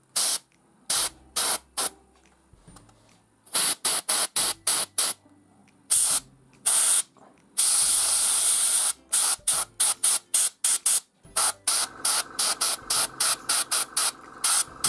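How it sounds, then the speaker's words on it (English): Spray paint hisses in bursts of varying length while rust marks are added to a sci-fi junk pile terrain model, close and loud, with brief pauses between most sprays and one longer continuous spray. "I'm just making some random rust"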